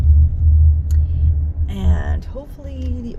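A car pulling into a restaurant parking lot, low engine rumble and road noise dominating at close range, with a voice talking briefly over it midway.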